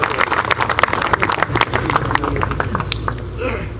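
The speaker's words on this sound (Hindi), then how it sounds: "अपने लिए तालियां बजा दीजिए।" Audience clapping at an Urdu poetry mushaira, a dense burst of many hands applauding steadily for a few seconds before thinning out near the end, with faint voices underneath.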